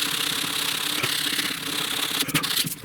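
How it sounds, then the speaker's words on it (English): Hand sanding of body filler on the inner door panel of a 1969 Chevrolet C10 pickup truck, a continuous close scratchy rubbing with brief scraping bursts, alone with no talk. "don't sand with your fingers like this, but in this case my fingers are blocked because it fits the area I want to sand down into"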